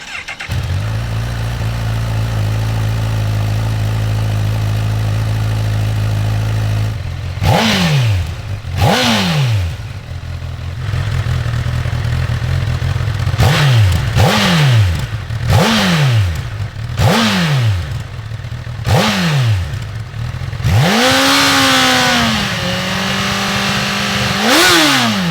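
Honda CB1000R motorcycle with stock exhaust idling steadily, then blipped through a series of sharp revs that rise and fall, ending in a longer held rev, loud and close with no talk.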